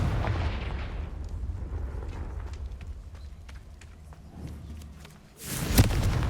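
Confringo fire spell exploding in the game Hogwarts Legacy, a loud, sharp burst near the end following a rumbling, noisy stretch of battle ambience.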